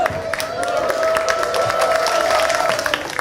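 A church congregation claps briefly during a sermon, with a short burst of scattered applause over a sustained hum.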